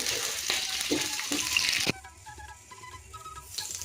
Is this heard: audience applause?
no